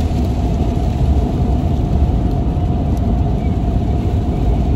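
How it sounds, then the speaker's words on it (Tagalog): Heavy rain pours steadily in Vancouver, a dense continuous roar that stays loud and even throughout, with no voices over it. "anong lakas ng ulan."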